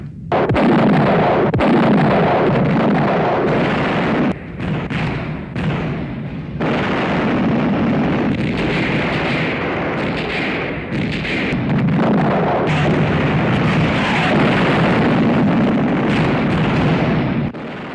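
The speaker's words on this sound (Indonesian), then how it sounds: "Di sisi lain para pasukan bersiap dengan meriam-meriam artileri mereka" Continuous heavy artillery barrage in a war film, booming cannon blasts overlapping into a dense, rumbling roar with sharper cracks breaking through, loud and sustained throughout.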